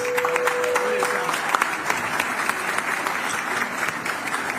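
Students aged 20 to 25 stand to receive a crowd's steady applause in a lecture hall, dense clapping filling the whole stretch at an even level with no voices over it.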